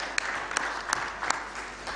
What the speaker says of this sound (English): A round of applause for the two colleagues.